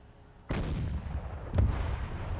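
A front cannon firing on a mecha in the Boneblades video game, heard as a heavy booming blast followed by a second, sharper shot and a rumbling tail, loud and close.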